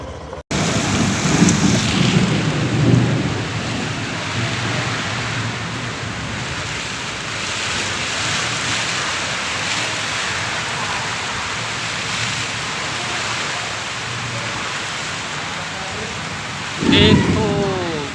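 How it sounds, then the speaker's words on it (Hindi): Heavy rain pours steadily throughout, with thunder rumbling early on and a strong gust or crack of thunder near the end, during a windy storm at a street with festival pandals set up. "देखो कितना हवा तूफान के साथ आज पानी गिर रहा है, पहली बार।"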